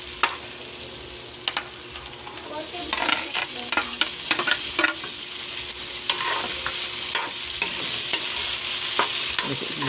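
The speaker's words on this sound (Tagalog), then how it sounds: "Lagyan natin ang ating tukwa" Tofu sizzles steadily as it fries in a pan, with a constant close hiss and scattered spatters and pops over the whole stretch, and no voices.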